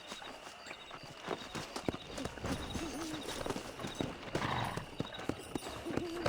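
Steady clip-clop of horse hooves walking in the video game Red Dead Redemption, with a faint whinny and soft outdoor ambience; rhythmic and fairly close.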